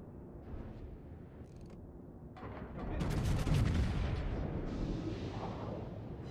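Front turrets of a warship firing in World of Warships, a deep rumbling salvo that swells after a quieter stretch and rolls on with heavy booming and crackling debris, fairly loud.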